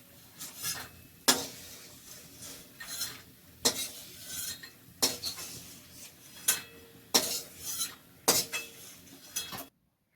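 Fried Bengali lentil dumplings (bori) are lifted out of hot frying oil with a metal utensil, giving sharp scraping and clinking strikes against the pan at irregular intervals over a faint background sizzle.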